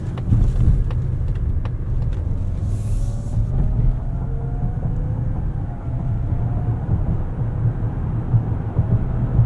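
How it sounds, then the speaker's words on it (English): A 2025 Mazda CX-90 plug-in hybrid SUV accelerates at full throttle in electric mode, giving a steady low road and tire rumble with a faint rising motor whine throughout, heard from inside the cabin. "That's full throttle in EV mode here, getting up to 50 miles an hour."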